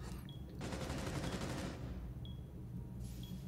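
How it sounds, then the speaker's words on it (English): Rapid automatic gunfire in Rainbow Six Siege, a fast sustained burst of shots lasting over a second, with faint distant pops and ambient game sound before and after. "Where is this shooting?"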